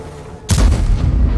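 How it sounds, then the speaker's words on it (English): An explosion in the World of Tanks video game hits suddenly as a single heavy boom, then rolls on in a low, rumbling tail, loud and close. "There was a bit of an explosion in the background"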